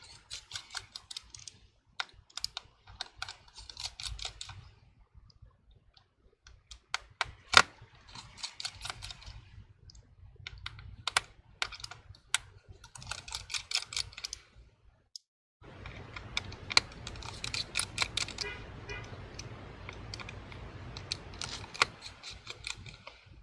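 Pentalobe P2 0.8 five-point screwdriver backing out tiny screws from a MacBook Pro A1706, giving faint, close ratcheting clicks in short bursts separated by pauses.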